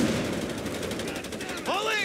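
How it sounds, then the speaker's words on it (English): Gunfire in the video game Company of Heroes 3 during an Italy campaign battle, with dense continuous shooting and a rapid burst near the end, loud and busy throughout. "Enemy sniper, he's picking us off!"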